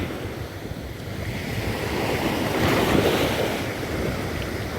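Sea waves washing onto a sand spit shore, a continuous roar of surf that swells in the middle with wind buffeting the microphone, no voices.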